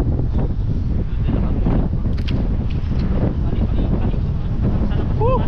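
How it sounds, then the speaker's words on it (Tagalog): Strong wind buffets the microphone in a constant heavy roar throughout, with faint voices briefly under it. "Ang lakas ng hangin, no?"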